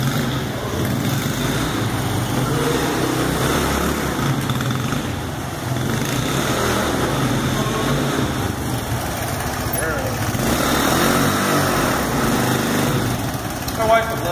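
A DRZ125 dirt bike engine buzzes and revs in a shop while the rider pulls a wheelie, a light, high-pitched drone holding steady, with people talking and exclaiming over it.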